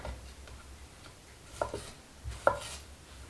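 A knife finely chopping broccoli on a board for cream of broccoli and cheddar soup, a few quiet, irregular taps and thuds standing out clearly above a faint, low background murmur.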